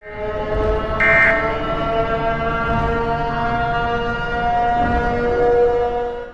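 A loud, sustained siren wail with a droning, multi-toned pitch that holds steady, briefly rising in intensity near the start, the call of Trevor Henderson's Siren Head creature.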